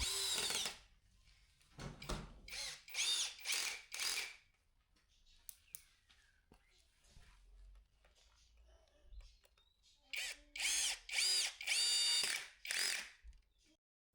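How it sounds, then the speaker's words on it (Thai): A rotary hammer drill boring holes for 8 mm steel anchors while building a light partition wall, in several short loud bursts separated by pauses, with an early cluster and a later cluster of drilling. "โรตารี่เจาะรูแล้วก็ดูดฝุ่นไป"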